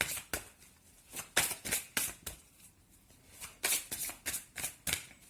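Cards are shuffled for a tarot-style reading, a string of crisp riffling bursts in a steady rhythm, close and fairly quiet with no talking.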